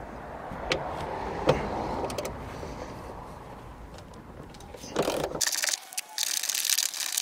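A ratchet loosens a 14mm bolt near the seat belt during tailgate work on a Honda Jazz, producing faint, close clicking in bursts over quiet background, followed by a louder rustle as the fitting comes loose.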